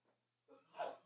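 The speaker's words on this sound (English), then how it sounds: "You ended it with a sneeze." A single quiet sneeze during a sports talk show, a soft intake of breath followed by a short burst, faint and close with no talking over it.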